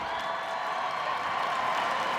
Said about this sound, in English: Well, the crowd loves the Cavalier.